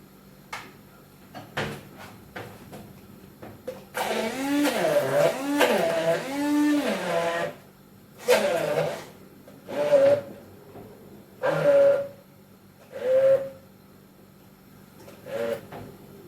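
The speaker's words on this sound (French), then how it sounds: "On va mixer le tout." A kitchen blender whirs in a run of short pulses, first a longer churning stretch and then several brief bursts separated by pauses, as it purées a seasoned mixture close by.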